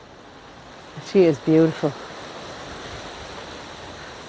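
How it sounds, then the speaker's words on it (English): Steady wind noise buffets the microphone throughout in a cemetery, with a person speaking briefly over it. "it is very windy"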